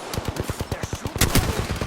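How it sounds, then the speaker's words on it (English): Automatic weapon fire from the PS4 battle royale game Apex Legends: a quick, regular string of shots with a heavier, louder cluster of rounds midway through. "Getting shot at."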